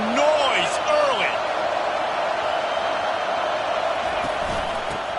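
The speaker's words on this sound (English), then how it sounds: "This crowd bringing the energy and noise early." A stadium crowd roars at an Alabama college football game, a broad continuous wash of cheering noise with a few sharper whistles early on, steady and loud throughout.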